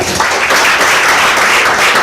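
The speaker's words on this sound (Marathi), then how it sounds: "सगळ्यांसाठी जोरदार टाळ्या" A prize-giving audience applauds for award winners at a ceremony: dense, steady clapping from many hands, loud and sustained without a break.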